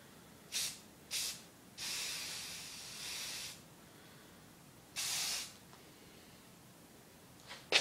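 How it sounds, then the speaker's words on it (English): Purple spray paint hisses from an aerosol can onto a spoon in several bursts: two short sprays, a long one of nearly two seconds, then another short-to-medium spray, close and fairly quiet with silence between. "I'm gonna spray paint my spoon"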